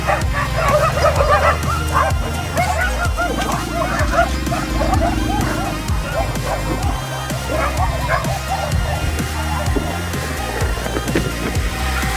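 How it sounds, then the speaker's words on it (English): Many dogs at a dog shelter bark and yip continuously at close range, overlapping excitedly, with some whimpering and a person speaking beneath the chorus. "All this are my dogs."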